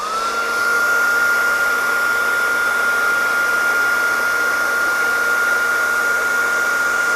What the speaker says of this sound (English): I get my hairdryer, get this cable over here, and I want to heat this figure for about 15 to 20 seconds